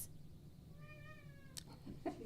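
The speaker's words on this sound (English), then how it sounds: "we have some kitties going off in the background" One cat lets out a drawn-out meow, faint and in the background, then a couple of brief soft noises follow, all quiet under a low hum with no talking.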